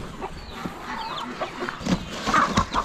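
Chicken clucks and squawks come in short bursts amid a busy barnyard background at an Amish animal auction, with several birds calling close by.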